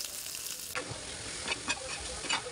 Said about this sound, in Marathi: थोडं थोडं पाणी टाकून आपण चांगले मसाले परतून घेऊया.